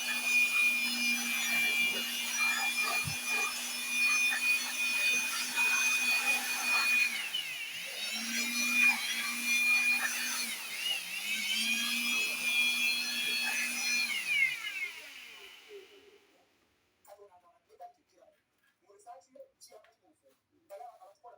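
Air blower blasting dust out of a Dell OptiPlex desktop computer, a loud steady high-pitched whoosh in a few long bursts with brief dips, cutting off after about fifteen seconds into near quiet.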